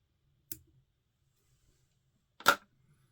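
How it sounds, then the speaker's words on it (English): Scissors trim away a feather stalk during fly tying for a mayfly spider, two sharp, close snips about two seconds apart against near silence, the second louder. "Trim away the stalk."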